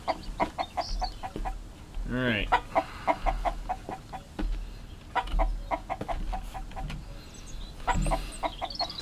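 Chickens cluck repeatedly in the survival game Mist Survival, with a rooster-like call rising partway through over a low rumbling background, and a single brief spoken word near the start.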